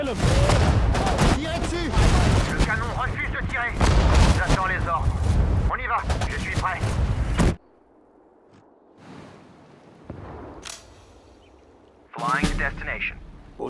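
Dense, rapid gunfire and heavy artillery booms from the strategy game Sudden Strike 4 pound continuously, then drop away to near quiet before more shots burst in at the end.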